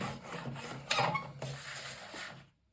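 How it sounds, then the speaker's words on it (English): A paper trimmer slices decorative scrapbook paper to size, giving a few rasping, rubbing cutting strokes close up, with a stronger swipe about a second in, then fading to quiet. "So I'm going to cut off this trimmer"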